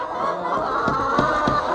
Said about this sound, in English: we moved the chickens in here